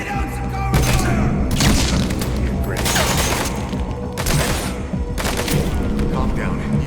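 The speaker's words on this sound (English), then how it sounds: "Lay down some cover fire!" Heavy gunfire from Metal Gear Solid 5: The Phantom Pain, loud sustained bursts of automatic fire and booming impacts crowding the whole stretch, with a voice talking over the shooting.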